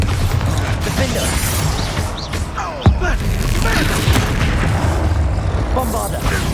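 Hogwarts Legacy combat on PS5 with explosive spell blasts: a loud, continuous battle din with one sharp booming impact near the middle and scattered crackles and thuds around it, voices calling out amid the fighting.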